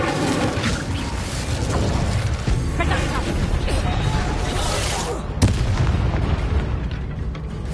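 Incendio fire spell cast during combat in Hogwarts Legacy, a loud continuous whooshing and crackling blast mixed with booming battle effects, dense and sustained, with voices in the fray.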